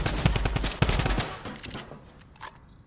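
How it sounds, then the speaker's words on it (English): A drum gun fires in a video game: rapid, dense bursts of automatic gunfire for about a second and a half, then thinning to a few scattered, quieter shots. "he has a drum gun"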